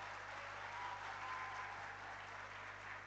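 An audience claps steadily at the grand opening ceremony of the Karnali Film Festival in Surkhet, a dense, even wash of applause from a large crowd, heard from a distance over a low electrical hum.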